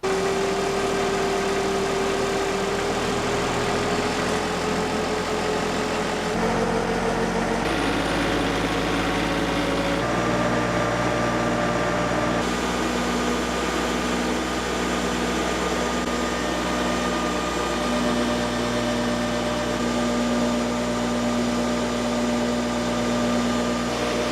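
A Winco 15 kW PTO generator driven by a farm tractor runs steadily, a loud continuous engine drone with mechanical hum whose pitch shifts a few times as the load changes, with no talking.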